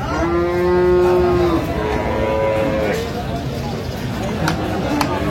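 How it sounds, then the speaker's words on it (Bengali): Cattle low at a livestock market in Aftabganj, Dinajpur, where dairy cows and calves are sold, one long loud moo followed by shorter ones, close up, over a busy murmur of people talking. "গাভী বাছুর আমরা দেখছিলাম এখানে।"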